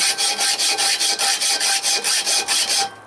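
Metal-cutting hacksaw working in steady back-and-forth strokes, about a dozen even rasping pulls close to the microphone, ending abruptly as the cutting stops.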